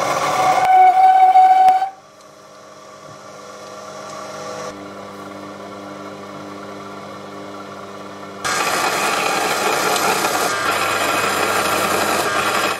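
A Proxxon PD 250 benchtop lathe turns a part held by a tailstock centre, giving a steady motor whine with a cutting hiss. The sound drops quieter after two seconds and grows louder again near the end, with no talking.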